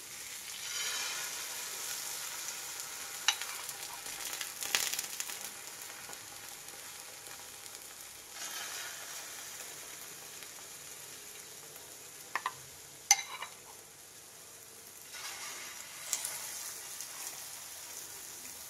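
Capsicum egg omelette batter frying in a pan, a soft steady sizzle throughout with a few faint clicks and light scraping touches, close and fairly quiet.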